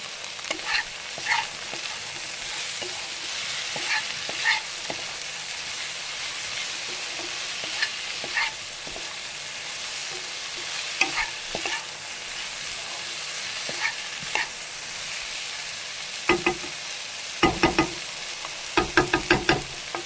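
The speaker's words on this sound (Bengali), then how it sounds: "ভেন্ডি ভাজা চাপিয়ে দিয়েছি" Steady sizzle of okra frying in a pan, with scattered scrapes and clatters of a spatula stirring, clustering into quick bursts near the end.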